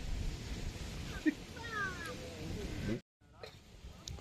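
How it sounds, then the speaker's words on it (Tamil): A cat meows a few times in a busy indoor kitchen while chicken is being cooked, with background chatter and clatter; the sound cuts out briefly near the end. "பூனை"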